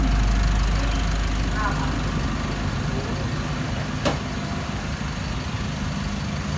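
A 2020 Isuzu Onnell 1.9 turbo diesel pickup with a remapped engine idles steadily, giving a constant low rumble throughout with one brief sharp tick partway through.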